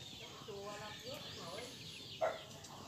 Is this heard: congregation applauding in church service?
no